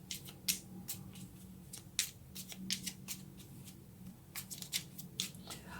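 Tarot cards being shuffled and drawn, a run of quick, crisp papery flicks and snaps in irregular bursts, fairly faint over a low steady hum, with no talking.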